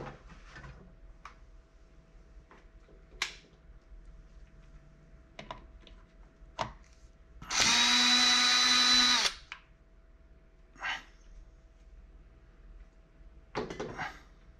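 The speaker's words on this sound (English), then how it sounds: "Drill." A power drill whirs loudly for about two seconds amid scattered clicks, taps and handling noises, with no talking.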